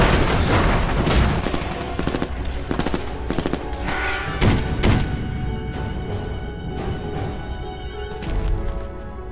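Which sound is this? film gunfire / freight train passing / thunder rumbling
film gunfire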